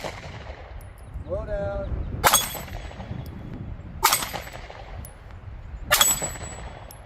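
Three loud rifle shots ring out at steady intervals outdoors, each followed by a sharp metallic clang from a six-inch steel plate target downrange, with a brief spoken remark between them.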